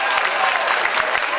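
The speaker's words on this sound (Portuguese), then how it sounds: "Eu queria que vocês dessem uma salva de palmas para os operários aqui da nossa Transoeste" Crowd applause for construction workers at a BRT bus corridor inauguration, steady dense clapping filling the whole brief moment at close range.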